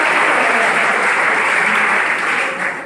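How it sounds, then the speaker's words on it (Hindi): Dense, loud applause from an audience at a school felicitation ceremony for parents, a steady wash of many hands clapping throughout with no letup. "तो ये जो पेरेंट्स आए हैं इनके लिए तो बहुत जोरदार से तालियां होनी चाहिए"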